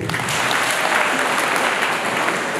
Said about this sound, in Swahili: Tupigie makofi wenyewe.